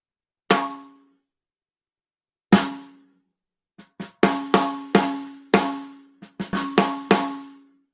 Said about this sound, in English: and then with rim shots it sounds like this.